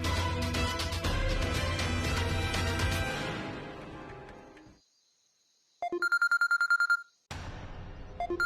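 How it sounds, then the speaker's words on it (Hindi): Telephone ringing in a household scene from a Bhojpuri TV drama, a bright repeating ring heard alone after music fades out, loud and close, with music returning afterward. "फोन उठावा रजो चाची।"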